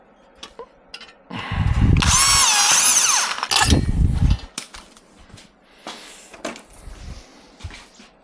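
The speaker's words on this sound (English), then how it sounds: "And we'll just drill another one" A power drill whines loudly for about two and a half seconds, pitch sliding as it bites into a metal Nissan Z exhaust tip, followed by a shorter burst and quiet clatter.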